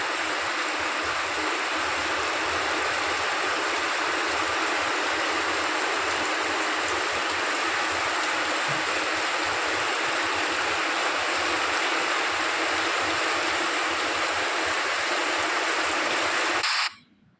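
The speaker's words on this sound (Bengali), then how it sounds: "দেখো কি মুসলধারে বৃষ্টি পড়ছে" Heavy rain pours down steadily in a dense, loud, unbroken hiss that continues almost to the end before cutting off abruptly.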